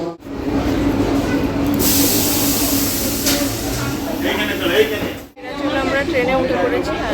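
Busy station platform at Tarakeswar with a steady wash of crowd chatter and rail noise, a loud hissing burst through the middle and a brief dropout before the murmur of voices returns; people talk throughout.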